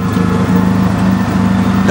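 A 2019 Kawasaki Mule PRO-MX side-by-side engine braking in four-low down a steep mountain slope, giving a steady, loud, low engine drone with a constant hum and no talk over it.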